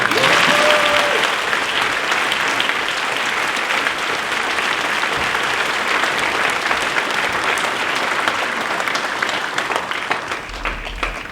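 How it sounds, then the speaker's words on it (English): Sustained applause from a school prizegiving audience at a primary school, dense and steady clapping filling the hall for about eleven seconds, tapering slightly near the end. "I think that deserves a round of applause."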